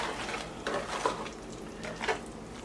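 A spoon scoops a thick cheesy jalapeño corn casserole mixture made with Jiffy cornbread mix into a baking dish, making a few soft, wet scraping and plopping strokes, close and quiet.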